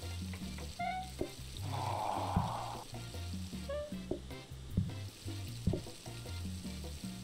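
Pumpkin soup cooking in the video game PlateUp, a steady sizzle and frying hiss with stirring clatter over looping game music, plus a few small chimes and clicks.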